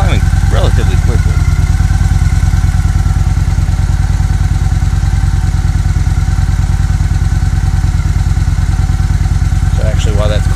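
A motorcycle engine idles steadily as it warms up, a close, even mechanical rumble with light clatter running unbroken throughout.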